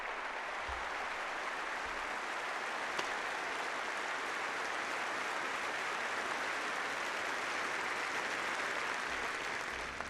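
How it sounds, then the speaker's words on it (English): An audience at a Rochester police officer's funeral claps steadily and evenly for the whole stretch. The applause is moderately faint and has no voices over it. "And you can feel free to clap about that because I'm damn happy."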